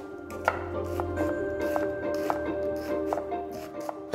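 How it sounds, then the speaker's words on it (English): A knife dices a red onion on a cutting board, giving a series of close, sharp chops at an uneven rhythm over a low steady background hum, with no talking. "One red onion, diced."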